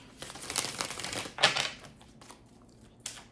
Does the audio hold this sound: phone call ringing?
no